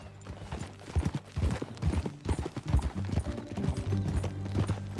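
Horse hooves in the video game Red Dead Redemption 2 clip-clop at a steady walking rhythm, close and clear, with a low ambient hum underneath and no talking.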